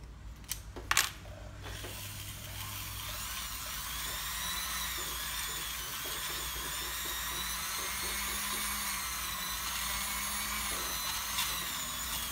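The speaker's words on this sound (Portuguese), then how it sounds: "Vou fazer o mesmo processo que eu fiz do lado de fora, vou utilizar uma lixa 800" Sterling silver 925 ring being sanded with 800-grit sandpaper, giving a steady, thin high whine that runs throughout, close and fairly quiet, after a couple of small clicks at the start.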